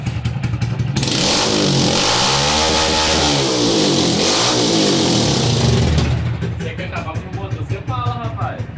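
An engine running through just a bare exhaust pipe revs hard and loud, swelling and falling in sustained waves before dropping back to a rough idle. Voices can be heard faintly.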